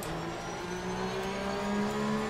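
A pack of thirty Porsche race cars in Assetto Corsa Competizione at Spa drones close by, several engine tones layering and shifting in pitch as they rev and hold speed together, loud and steady with no talk.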